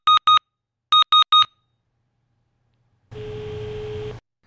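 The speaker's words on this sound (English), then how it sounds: "the phone senses that it's no longer upright and begins a 10-second countdown" An Aastra 630d DECT mobile handset sounds its man-down countdown: two short sharp beeps, a pause, three more quick beeps, then a longer buzzing tone about a second long, all clear and close against silence.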